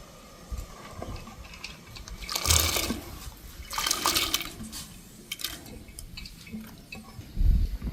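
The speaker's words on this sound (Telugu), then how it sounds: "ఇప్పుడు మనం ముందుగా నానబెట్టిన కందిపప్పుని దీంట్లో వేసేసుకుందాం." Soaked toor dal tipped into a pot of boiling water while making Telugu-style tomato dal: a few sloshing splashes and pours over a low, steady bubbling background.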